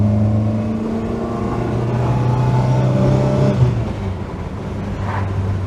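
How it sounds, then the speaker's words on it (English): A 1972 Sunbeam Rapier's exhaust drones loudly from inside the cabin with the window open, a steady engine note that rises under acceleration and then settles, with road rush beneath it. "Need to open the window to get that exhaust note."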